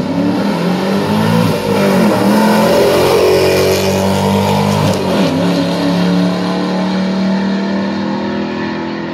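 A supercharged Chevrolet HHR accelerates hard down a 1,000-foot drag strip, its engine roaring loud and sustained with a rising rev and a brief shift partway through, fading slightly at the end.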